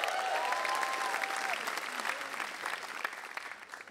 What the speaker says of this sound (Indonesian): Tepuk tangan untuk Suci 8